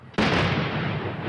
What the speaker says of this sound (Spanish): Explosiones seguidas,